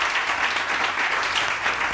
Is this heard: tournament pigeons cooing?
no